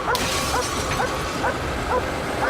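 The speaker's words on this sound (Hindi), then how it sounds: "रुको, सेज इस कार पर भौंक रही है।" A detection dog barks at a car during a search, giving a string of short, sharp yips roughly every half second. The barks sit fairly faint under a steady wash of outdoor noise.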